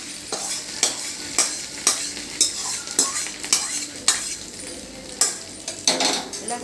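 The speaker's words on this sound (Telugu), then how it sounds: "పోపు వేగిపోయింది. ఇదో ఇందులో వేసేస్తున్నాను." Fried tempering being stirred into pulihora (tamarind rice) in a pan: steady, rhythmic scraping of a metal spoon against the pan roughly every half second, with light sizzling and clinks, close and clear.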